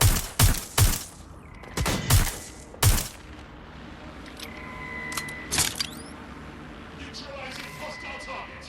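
Gunfire from the video game Watch Dogs Legion comes as several sharp, loud shots in quick bursts, then a scattered lull with a few softer shots and game effects, while a voice calls out over the action.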